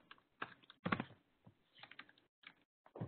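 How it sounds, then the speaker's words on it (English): Computer keyboard typing at a terminal: scattered bursts of keystrokes in uneven clusters with short pauses between them, close and moderately quiet, with no talking. "Type in the terminal."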